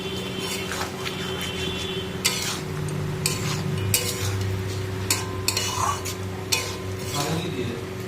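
Spoon stirring small fish chachchori curry in a pan, repeated scraping clinks against metal over a soft sizzle and a low steady hum, close and moderately loud.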